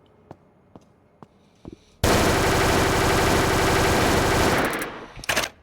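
An automatic weapon in the video game ANEURISM IV fires a long, loud, unbroken burst after several sparse single clicks, then trails off into a few scattered shots.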